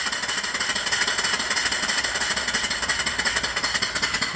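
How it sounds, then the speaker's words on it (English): A live steam mill engine running off grid, exhausting through a pipe: a steady, fast rhythmic chuffing and mechanical clatter at even volume, close and continuous with no talk. "Real smooth running engine."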